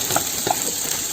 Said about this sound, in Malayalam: അതിലേക്ക് വെളുത്തുള്ളി ചതച്ചത്, ഇഞ്ചി ചതച്ചത് ഒന്ന് അതേപോലെ ഒന്ന് വറുത്തെടുക്കണം